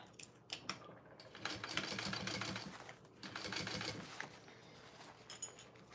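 A sewing machine stitches a bag seam at full seam allowance in two quiet, rapid mechanical runs of about a second each, separated by brief pauses and faint handling clicks.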